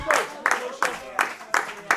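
A wrestling crowd claps in steady rhythmic unison, about five sharp bursts of massed hand claps in two seconds, with a commentator's voice faint underneath.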